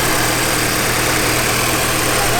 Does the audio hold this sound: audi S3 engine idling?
yes